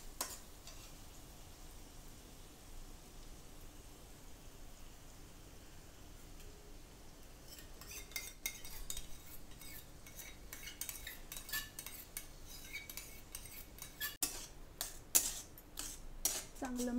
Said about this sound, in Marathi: चांगलं मिक्स करून घेऊया फ्रेश क्रीम।